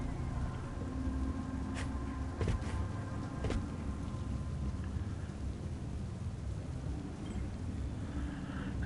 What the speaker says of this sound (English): Storm coming in?